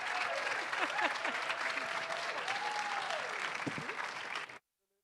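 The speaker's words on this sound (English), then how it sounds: "Can we get another big round of applause?" Audience applause at a conference stage, steady clapping from a crowd with a few whoops and cheers rising over it, sustained for several seconds before stopping abruptly.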